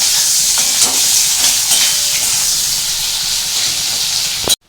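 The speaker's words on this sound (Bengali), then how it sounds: "এবার আমি এর মধ্যে দিয়ে দিচ্ছি পেঁয়াজ। এটাকে একটু ভালো করে ভাজবো।" Sliced onions fry with black cumin in hot oil in a pan, making a loud, continuous close-up sizzle and hiss with occasional stirring scrapes. It cuts off abruptly at the end, and nobody speaks.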